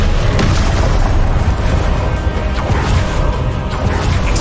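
Heavy, close explosions from the Confringo blasting spell in Hogwarts Legacy boom continuously, layered crashes and bursts rolling over one another at high volume for the whole stretch.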